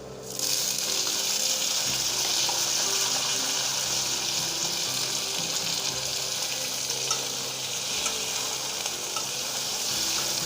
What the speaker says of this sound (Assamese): এতিয়া মই বিলাহীখিনি দি দিম ইয়াতে।